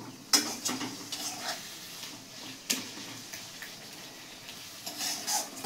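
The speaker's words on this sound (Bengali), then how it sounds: "এবার মশলাটা একটু ভেজে নেব" Spice paste fries in mustard oil in a home kitchen, a low sizzle broken by sharp scrapes and clinks from a spoon stirring against the pot at irregular intervals.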